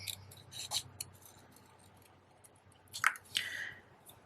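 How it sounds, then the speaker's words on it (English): Scissors snip through paper while a handmade card is trimmed: a few quick crisp cuts, a pause, then another short cluster of snips, close and fairly quiet with no talk. "just chop, chop, chop with your scissors."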